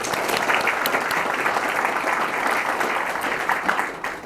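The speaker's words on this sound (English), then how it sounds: "So a round of applause for Tim Leonard" An audience at a fire department awards ceremony applauds an award recipient, with steady, dense clapping filling the room throughout before easing slightly at the end.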